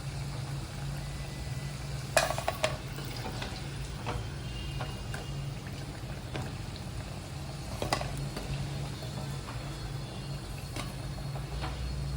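Raw banana slices frying in a pan as a simple home-style fry, a steady low sizzle and bubbling with a few sharper crackles and pops near the start and midway, no voices.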